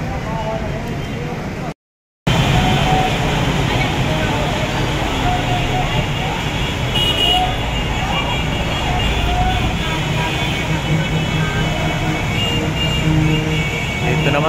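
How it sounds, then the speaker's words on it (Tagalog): Heavy rain pours steadily near an MRT exit during the Taal volcano eruption, a dense continuous roar with passing traffic mixed in, while someone talks over it throughout. "Malakas pa ng ulan"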